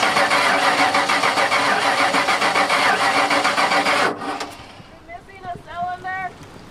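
A 1989 Ford F-150 with a fuel-injected engine cranks steadily and loudly with a rapid rhythmic churn, then the starter stops abruptly and voices speak briefly in the quiet that follows.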